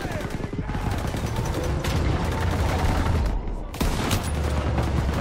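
Rapid, sustained automatic gunfire in the Call of Duty: WWII video game, dense and loud throughout with a brief gap near the end before the firing continues, backed by a low rumbling battle din.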